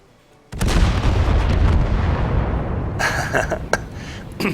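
Barrels blowing up in groups in a video game map on a patch 9.4 test server, a sudden loud blast that holds as sustained rumbling booms, then a cluster of sharper crackling bursts near the end.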